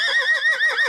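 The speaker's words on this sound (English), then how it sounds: "That's the sound of pure joy from a horse as she calls to one of her friends." A rescued horse at a Louisiana ranch lets out a loud, close whinny calling to another horse, one continuous shrill neigh with a wavering, quavering pitch and no other sounds around it.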